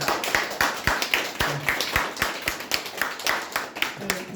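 An audience at a business seminar claps in a steady, fairly quick rhythm of hand claps, moderately close, with no voices over it.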